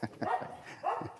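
Dogs in a small village of white streets, giving a couple of short, faint barks from a distance, alone without talking.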